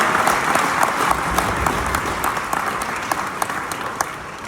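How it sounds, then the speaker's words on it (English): A large class audience claps steadily, the applause loud at first and gradually thinning, with a few sharper individual claps standing out. "give yourselves a round of applause for being the biggest class"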